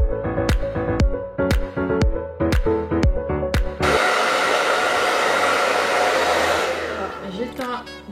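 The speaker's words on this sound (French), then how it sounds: "Donc on va enfin pouvoir procéder au séchage de cheveux." A hair dryer blows on hair during a Brazilian blowout, starting in the middle as a loud continuous whoosh that holds steady and then fades, after several seconds of rhythmic music notes.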